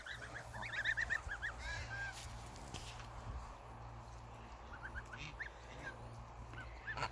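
Baby crows call from a nest on a farm, a series of short, hoarse, honking cries that come in quick bursts, rise and fall, then return, close by over a steady low hum and light rustling.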